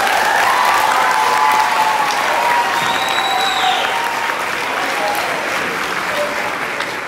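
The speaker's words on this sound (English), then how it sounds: "Let's give them a round of applause." Parents in a school audience give the Campbell School 4th grade band a long round of applause, thick steady clapping with a few high whoops and cheers rising over it, fading slightly toward the end.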